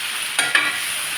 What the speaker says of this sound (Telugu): రైస్ వేసి ఇప్పుడు కలిపేస్తానండి.